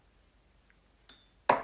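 A phone notification on an Instagram Live stream: a faint soft ping followed by a brighter, louder chime, both brief and isolated against near-silence.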